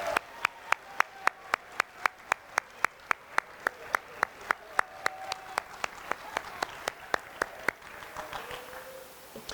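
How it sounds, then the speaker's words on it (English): An audience at a speech competition applauds its finalists with steady, rhythmic unison claps, roughly three per second and evenly spaced, before they break into looser, scattered clapping near the end. "Let us all give them a round of applause for making it here"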